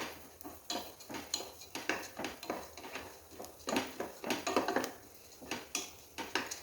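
Lentils (dal) stirred while they roast in ghee in a pan for payasam: a spoon scrapes and clatters against the pan in quick, regular strokes, close and clear, with only a faint sizzle underneath.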